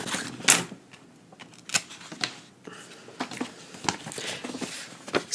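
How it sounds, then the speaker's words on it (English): Scissors snip a flap off a paper envelope in a few crisp, close cuts separated by pauses and soft paper handling. "this little flap in the front piece, I'm going to cut off."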